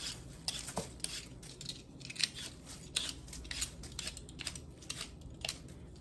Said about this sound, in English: I use a peeler